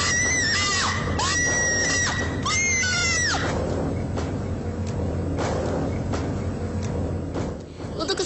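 A woman screams hysterically in loud, rising, ragged shrieks that repeat in bursts, then give way to noisy, chaotic sobbing and shouting during a nighttime paranormal-show shoot.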